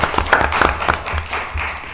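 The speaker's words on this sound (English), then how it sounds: "let's give them a round of applause" Brief scattered clapping at a council meeting for this year's graduates, a handful of individual claps rather than a full ovation, close and fairly loud, lasting only a couple of seconds.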